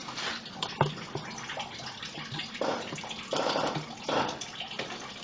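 Antifreeze coolant draining from a 1997 Ford Explorer into a bucket, a steady splashing pour that runs the whole time at moderate level, with a few louder gushes and no talking.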